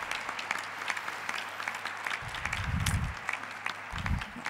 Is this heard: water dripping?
no